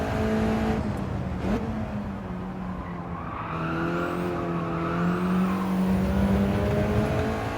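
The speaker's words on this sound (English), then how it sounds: "So we get wheel spin." A race car in the Gran Turismo 7 video game spins its wheels while cornering at low traction control, with a rising and falling engine drone and brief tire squeal, steady and close with no talking.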